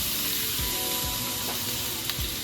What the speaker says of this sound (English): this is sizzling away here